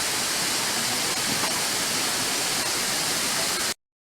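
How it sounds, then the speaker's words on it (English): A waterfall along the road to Hana on Maui pours with a steady, loud, unbroken rush of white water, alone without voices, then cuts off abruptly just before the end. "Waterfalls and Hana and Maui."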